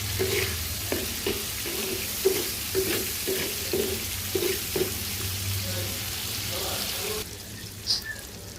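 Shrimp bhuna fries in a pan while a spoon stirs it in a steady rhythm, each stroke a soft scrape over a continuous sizzle, close and moderately loud.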